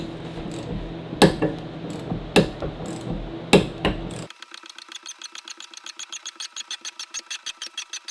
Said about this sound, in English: I brought a puller to pull that off